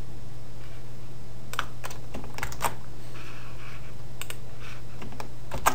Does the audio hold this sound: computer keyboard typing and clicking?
yes